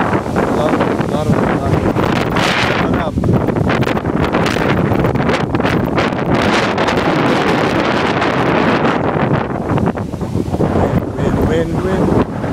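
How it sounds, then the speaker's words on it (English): Strong hurricane wind roars nonstop across the Bahamas, buffeting the microphone with loud, dense, unbroken rumble and gusting hiss for the whole stretch. "Just a lot of fucking wind."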